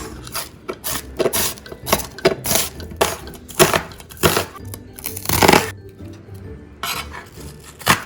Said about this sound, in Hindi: एक बड़े साइज की प्याज लेनी है और इसको हमने कर लेना स्लाइस।